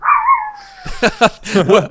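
A dog barks and yips close and loud: a long whining whimper first, then several quick sharp barks in a row, with no talk.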